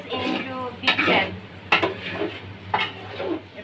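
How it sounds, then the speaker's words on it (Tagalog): Cooked vegetables for a chicken pasta dinner are tipped into a big pan and stirred, giving close scraping and clattering of utensil on metal, a few sharp knocks and a faint sizzle underneath. "We have to transfer the vegetables into big pan."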